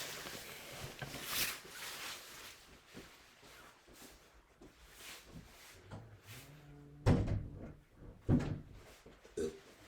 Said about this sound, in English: Let me actually close this door real quick.